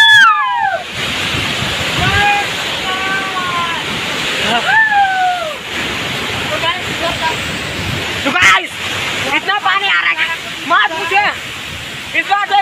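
Rajpuri waterfall at Bagicha in Jashpur, Chhattisgarh, gives a loud, steady roar of rushing water heard close by. People talk and call out over the constant noise of the falls.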